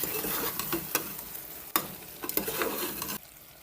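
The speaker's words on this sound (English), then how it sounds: "Giving it another stir." A spoon stirs Jamaican-style curried cow head and tripe in a pot, sizzling steadily with soft scrapes and knocks against the pot, close up and without talk until it quiets at the end.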